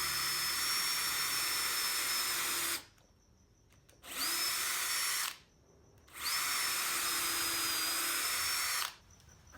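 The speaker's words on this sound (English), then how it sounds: "I reused an existing screw hole in the tabletop to fix the brace to the underside and then added more screws from underneath later" A power drill drives screws into the underside of a wooden dining tabletop, three sustained whining runs with short quiet pauses between, close and steady, with no voices.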